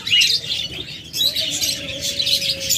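A pair of rainbow birds, likely small cage birds, chirping in quick bursts of high tweets, close and fairly loud, with a brief dip in the middle.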